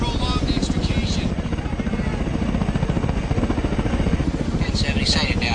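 A medevac helicopter approaches a hospital helipad with a loud, continuous rotor thump and turbine whine close by. Radio voices talk over it near the start and end.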